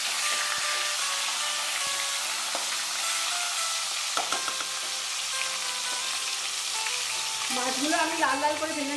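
Katla fish pieces fry in hot oil in a Bengali kitchen, producing a loud, continuous sizzle with occasional stirring clicks. A voice is briefly heard toward the end.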